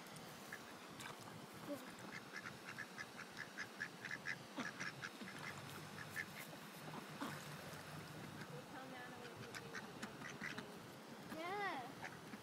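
Several ducks quack repeatedly in short nasal bursts, fairly close, with a faint voice in the background and a louder honking call near the end.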